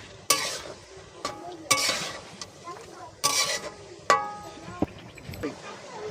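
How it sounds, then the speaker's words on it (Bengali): Chicken biryani being stirred in a pan after yogurt is added, with repeated scraping and clinking strokes of a spoon against the metal and a faint sizzle underneath, close and moderately loud. "টক দই দিয়ে একটু ভালোভাবে নেড়েচেড়ে দইটা যাতে ভালোভাবে মিশে যায়"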